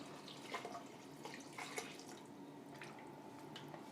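Water pours and splashes faintly into a cooking pot while a Chettinad vegetable biryani is made, with soft trickling and dripping sounds in a quiet kitchen.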